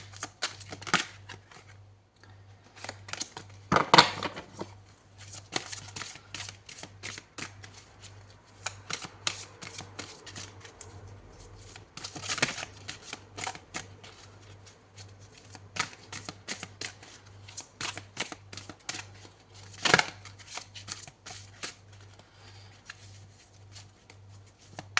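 Tarot cards are shuffled by hand in close, crisp riffling bursts and soft slaps, irregular flurries of quick card flicks with short pauses between them, no voices present.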